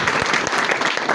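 A church congregation breaks into loud, dense applause, a steady wash of clapping filling the hall without pause.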